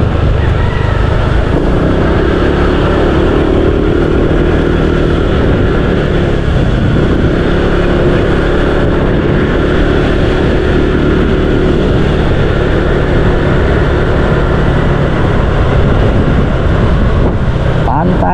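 Motorcycles and cars pass along a quiet road near Nyang-Nyang beach, with steady engine drone and rushing noise mixed with heavy wind on the microphone throughout, loud and continuous.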